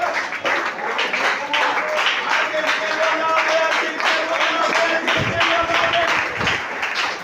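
A church congregation applauds during a Sunday school sermon, steady rhythmic clapping from many people that keeps going throughout, with a voice speaking over it.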